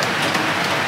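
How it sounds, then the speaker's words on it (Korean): Rain falling steadily over a jungle stream pool on Langkawi after swimming, a continuous close hiss of drops alone with no talk. "수영 끝나고 나니까 비가 오네."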